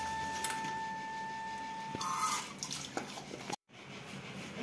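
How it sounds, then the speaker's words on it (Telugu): Water runs from a tap while plastic dishes are washed at a sink, giving a steady splashing flow with a brief rattle of plastic and a short drop to near silence toward the end. "ఇట్లా ప్లాస్టిక్ అన్నీ వచ్చేసి ఇక్కడ కడుగుతున్నాను"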